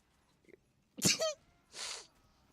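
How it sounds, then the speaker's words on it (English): A person sneezes once, a sharp, close burst with a quick catch of breath, followed a moment later by a softer exhale or sniff, with quiet game sounds in the background. "Sneeze."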